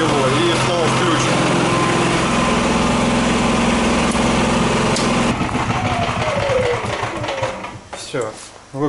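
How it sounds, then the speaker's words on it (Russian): A small petrol generator runs during a power outage, its steady high-pitched engine drone continuous and fairly close until it cuts out near the end and winds down. A faint rattle ends it. "У меня нету света, поэтому у меня работает генератор."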